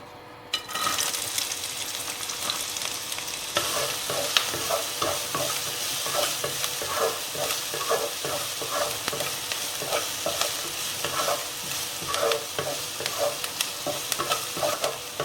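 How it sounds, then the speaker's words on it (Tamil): Chopped onions fry in hot oil in a pan, a steady bright sizzle broken by repeated scraping and stirring strokes of a spoon, close and continuous. "இப்போ நறுக்கி வச்சிருக்க வெங்காயம் ஆட் பண்ணிக்கிறேன்."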